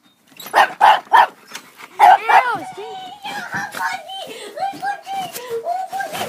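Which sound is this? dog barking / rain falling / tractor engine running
dog barking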